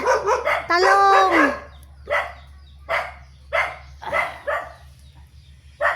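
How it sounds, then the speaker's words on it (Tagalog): Dogs barking repeatedly at close range outdoors, one drawn-out howling yelp followed by a string of sharp barks spaced about a second apart over a low background hum. "May aso nga lang, may ilang aso"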